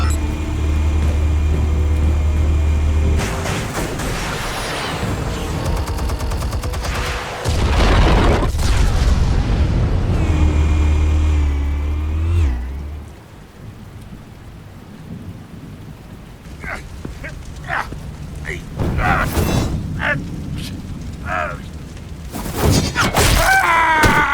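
A loud, booming explosion from the video game Batman: The Telltale Series, with a deep rumbling roar over a sustained low drone, then fading debris and crackling and a few sharp impacts.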